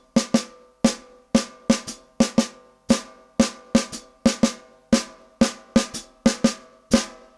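A one-bar syncopation exercise for limb independence looped repeatedly on a drum kit, sharp percussive hits in an uneven swung pattern with quick decays, steady and fairly close with no voices.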